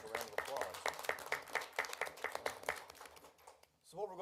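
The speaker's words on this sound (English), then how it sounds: "I think that deserves a round of applause" Applause at a city council meeting, a small group clapping in a brisk rhythm for a few seconds before it fades and a voice begins.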